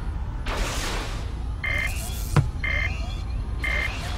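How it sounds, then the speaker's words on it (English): Repeated electronic buzzer tones sound at the end of a period in a video game match, three evenly spaced bursts over a noisy background with a brief thud between them. "Another goal! Right before the buzzer, 6-2."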